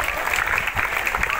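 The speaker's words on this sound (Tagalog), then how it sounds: "Palakpak naman." A school awards-ceremony audience in the Mimaropa region bursts into steady, loud clapping that fills the brief moment, with a voice partly heard over it.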